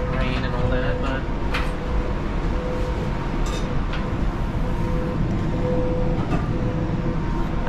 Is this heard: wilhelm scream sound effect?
no